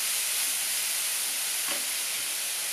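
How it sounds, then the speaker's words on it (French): Sliced potimarron squash sizzles in a frying pan while being stirred, a steady close hiss with a brief scrape of the utensil partway through. "Je vais y ajouter mes lamelles de potimarron. Je remue tout ça."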